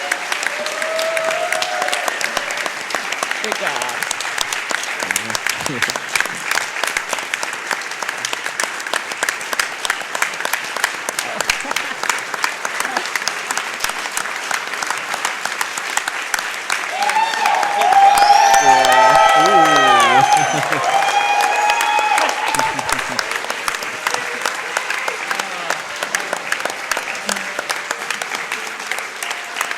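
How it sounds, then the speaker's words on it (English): A large crowd applauds and cheers at the close of the Summer Games Done Quick 2015 speedrunning marathon after a Chrono Trigger run. The clapping stays continuous throughout, swells briefly near the middle, and a voice speaks a short phrase. "Can we get one more round of applause for puwexil and Essentia for closing up the marathon?"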